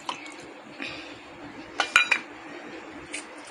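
Small metallic clinks and light knocks sound as ingredients such as cumin, Kashmiri red chili, tamarind pulp and dates go into a mixer jar, a few sharp taps clustered in the middle against a quiet kitchen background.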